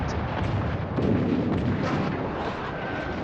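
Battleship shells fire and burst in World of Warships, a dense, sustained wall of booming rumble and explosion noise with no clear gaps, loud and close throughout.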